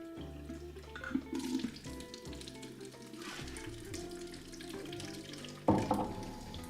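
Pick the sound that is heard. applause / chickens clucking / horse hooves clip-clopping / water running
water running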